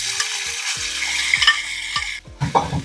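Ground breakfast sausage slid into avocado oil in a skillet gives a steady frying hiss, marked by several clunks and scrapes of utensils against the pan and a louder burst of sizzle near the end, with no talking.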